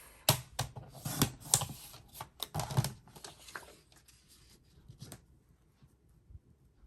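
Scissors snipping a Dollar Tree sticker to length, a quick run of close, crisp cuts and paper rustles that stop, leaving quiet.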